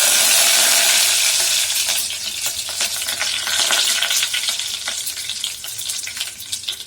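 Curry leaves hit hot frying oil in a Tamil home kitchen while making tapioca (maravalli kilangu) snacks, giving a loud, steady crackling sizzle that slowly eases, with scattered pops and stirring scrapes and no talk.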